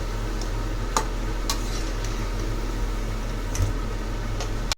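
Bondas made from maida dough deep-frying in oil until crispy, a steady close bubbling hiss with occasional soft pops and clicks, alone without talk.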